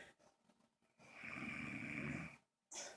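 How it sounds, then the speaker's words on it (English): A man snores in his sleep, a long, loud, rasping inhalation lasting over a second with shorter snorts before it, captured close up with no talking. "he snores like an animal"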